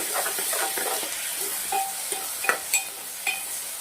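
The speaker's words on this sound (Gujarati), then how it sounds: "શિમલા મરચાં ટામેટા નાખ્યા પછી સરસ મિક્સ કરી દેવાનું છે." Capsicum and tomatoes stirred in hot oil in a pan for upma, with a steady sizzle and several scraping spoon strokes clattering against the pan, fairly close.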